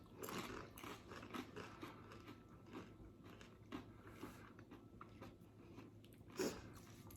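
Crunchy homemade chicken skin chips being chewed up close, with repeated crisp bites and crunches over several seconds and one louder crunch near the end.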